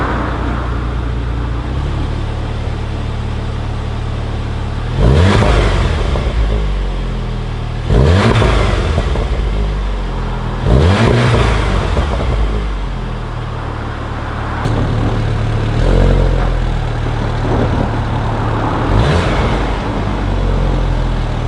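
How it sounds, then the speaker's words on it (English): A 2016 Seat Leon Cupra 290 with a dual-exit sports exhaust idles loudly and close by, then revs in about five rising and falling bursts spaced a few seconds apart. "Despite the pops and cracks at top revs, the exhaust note is still quite subtle"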